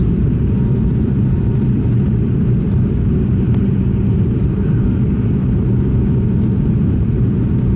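An ATR72-600 turboprop airliner lands, a steady heavy low rumble of engines and rolling wheels heard from inside the cabin, unbroken throughout with only faint ticks above it.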